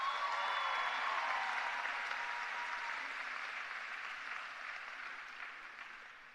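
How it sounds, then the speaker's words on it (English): Audience applause at the William T. Dwyer High School Class of 2022 commencement ceremony: a broad, steady wash of many hands clapping, fading gradually toward the end. "Give them a round of applause."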